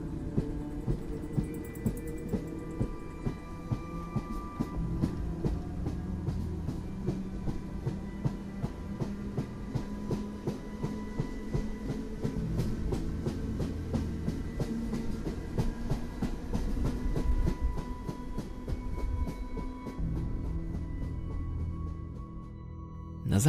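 A train rolling along the rails, steady rumble with rhythmic clickety-clack of wheels over rail joints, continuous and fairly close for over twenty seconds before easing off.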